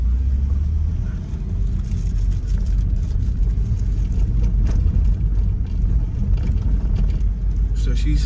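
A car drives along a city street in the St. Roch neighborhood of New Orleans, heard from inside a moving vehicle as a steady, loud engine and road rumble.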